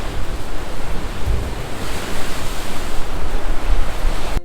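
Ocean waves crash steadily on the shore at Hawaii Kai, a loud, continuous wash of surf with swelling surges and some wind buffeting, no voices.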